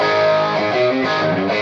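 Electric guitar, a Wolfgang with custom P90s into a Quilter amp, driven through a Slinger overdrive pedal: a thick, saturated sustained chord with shifting notes, loud and steady throughout.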